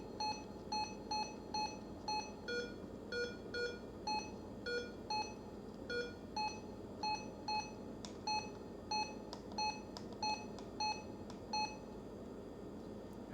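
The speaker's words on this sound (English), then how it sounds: "You should hear a beep each time I push a button." Button beeps from a Retevis RT95 radio's hand microphone, a long run of short, clear electronic tones in a steady rhythm with a few pitch changes, sounding alone at moderate level.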